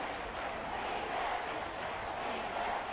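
A broad, steady roar from a Seattle Seahawks home stadium crowd in the football video game Madden NFL 24 fills the scene continuously at a loud, even level with no breaks.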